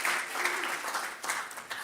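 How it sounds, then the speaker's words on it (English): A short round of applause from the audience at an entrepreneurship competition final, moderately quiet clapping from a modest crowd lasting a couple of seconds. "So just a quick round of applause for Chris over here."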